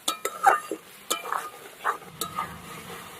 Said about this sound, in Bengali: হলুদ লবণ মশলা ধোয়া জল সব কিছু দিয়ে ভালো করে কষিয়ে নেবো এবার মশলাটা